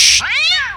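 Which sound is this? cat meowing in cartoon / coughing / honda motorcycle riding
cat meowing in cartoon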